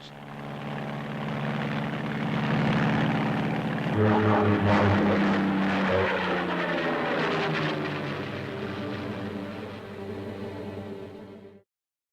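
A Curtiss XP-55 Ascender, a tail-first pusher-propeller fighter, drones loudly overhead with a steady engine tone that shifts in pitch as it passes, then cuts off abruptly.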